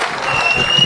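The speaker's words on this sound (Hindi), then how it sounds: "एक बार पूरा सदन हाथ उठाकर प्रख्यात के लिए तालियां बजा दे यार" Audience applause during a Hindi poetry recitation on the Kashmir Files, a dense, steady wash of many hands clapping at fairly loud level, heard briefly.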